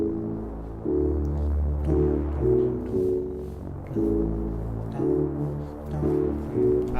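A dark bass synth layered on top of a piano part, built in Logic for a beat, plays sustained low notes that change every second or so beneath piano chords, loud and steady with no talking.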